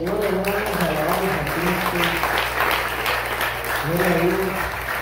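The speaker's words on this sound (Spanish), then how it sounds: "Damos aplausos al Señor, hermanos" A church congregation applauds during a Spanish-language sermon, with continuous clapping running under a preacher's voice and sung or spoken responses throughout.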